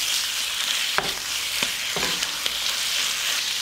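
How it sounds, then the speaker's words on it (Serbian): Chicken liver frying in a pan with garlic and oil gives a loud, continuous close-up sizzle with a bright hiss, broken by a few sharp clicks from stirring; no voices. "Dok se džigerica prži"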